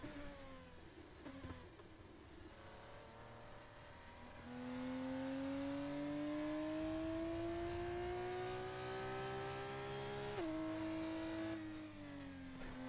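An F2 race car engine in a racing video game holds a steady, loud rising drone as it crosses the finish line, with a brief shift dip near the end before the pitch climbs again.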